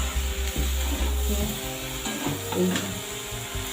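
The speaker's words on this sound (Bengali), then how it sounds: "একদম চিংড়ি মাছের সঙ্গে সুন্দরভাবে কষিয়ে নিলাম মাখা মাখা হয়ে গেছে" Small prawns cook down with Malabar spinach greens in a pan, giving a steady close sizzle with scraping, clattering stirring strokes and some low mechanical rattling.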